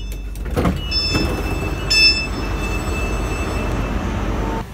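A crowded passenger train heading toward Waverley station, heard from inside the carriage: a constant low rumble of the rolling train with a few clanks and thuds and faint high squeals from the wheels and rails.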